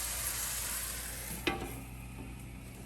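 Meat searing in a hot pan for beef ossobuco, a quiet steady sizzle with one sharp clack partway through, then a fading hiss.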